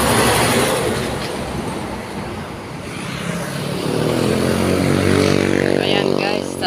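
Heavy road traffic with many vehicles rumbles steadily on a busy street beside a pedestrian about to cross, a dense continuous roar with an engine passing close near the end.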